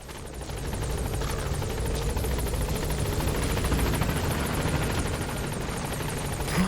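A helicopter in Metal Gear Solid V arrives at a landing zone, its steady rotor chop building into a loud, continuous thrum that holds for several seconds with no talk.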